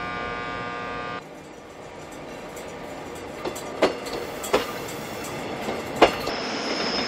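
Train on the Yeongdong rural line rolling along, with a steady rail rumble, a loud hum that drops away after the first second, then repeated sharp wheel squeals and clacks growing more frequent.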